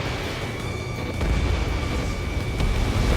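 A destroyed target explodes in the combat flight game Ace Combat 7, a deep rumbling boom that swells and lingers under a steady jet drone, with a couple of sharp cracks breaking through.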